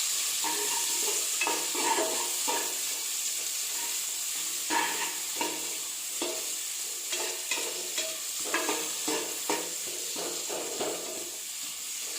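Medium onions with star anise, cardamom and cloves frying in a pan for biryani: a continuous close sizzle broken by repeated spatula scrapes and stirring clatter, with no voices.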